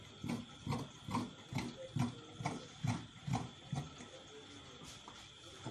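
Scissors cut fabric for an agbada in a steady rhythm of about a dozen quiet, close snips.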